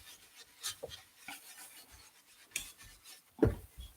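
Soft bristly scrubbing of an ink blending brush worked back and forth over a paper stencil while making a card. The strokes come in faint, uneven bursts, close to the mic and otherwise quiet.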